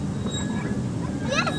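A miniature railway train runs at Ruislip Lido, a short steady rumble of rolling wheels with a brief high metallic squeal near the end.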